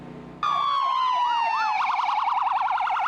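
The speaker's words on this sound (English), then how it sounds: "In the streets of Manhattan, blaring with sirens." Emergency vehicle sirens wail through the streets of Manhattan, first a long falling tone and then a rapid warbling yelp, loud and sustained over faint street noise.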